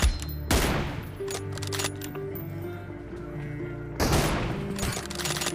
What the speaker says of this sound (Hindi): मैं शॉट्स मार रहा हूँ